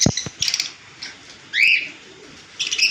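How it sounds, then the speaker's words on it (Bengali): Pet birds in a bird shop selling conures and lovebirds, with sharp chirps, whistled calls and a rising tweet coming in short bursts, close and clear over a quiet background. "এই পাখিটার নাম প্যাস্টেল পাখি।"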